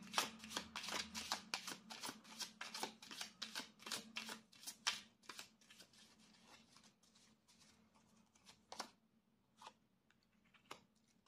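Tarot cards are shuffled in quick rapid riffles, producing a dense run of crisp, close flapping snaps. The shuffling thins into scattered single flicks toward the end, and no voice is heard.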